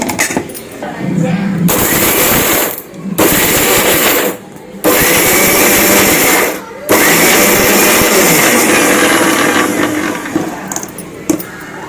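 Loud whirring of a mixer grinder grinding thoothuvalai chutney in several bursts, cutting off briefly between each, with a voice heard faintly under the motor.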